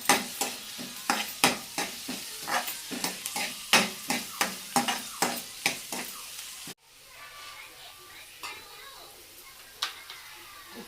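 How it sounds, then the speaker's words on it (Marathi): Spiced okra, ginger-garlic paste and masala are stir-fried in a pan, with a spatula scraping and clanking in a steady rhythm over a soft sizzle, then the stirring stops and a quieter sizzle carries on alone. "त्याच्यामध्ये हे चांगलं परतून घेऊया।"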